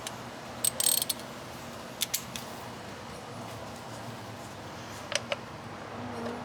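A ratchet wrench loosens the 10 mm bolt holding a coil pack on a Kia 2.0L GDI engine, a couple of brief ratcheting bursts and clicks spaced apart over faint background hum, close up with no speech.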